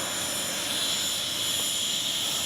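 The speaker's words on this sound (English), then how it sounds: "love that KM model afterburner" An FMS Avanti S 90mm RC jet with a KM model afterburner roars as a steady, loud, high-pitched turbine whine and broad rushing hiss, unbroken across the whole stretch with no voices.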